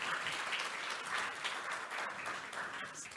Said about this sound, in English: I want to ask all of us to give them a round of applause